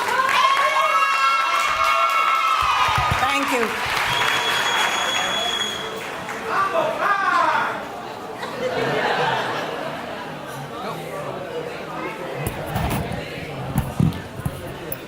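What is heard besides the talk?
audience applause and cheering for graduates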